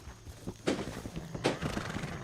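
Horse in the RedM game, an online Red Dead world, clopping softly with a couple of louder hoof strikes and faint whinny-like noise, quiet and fairly distant with no talk.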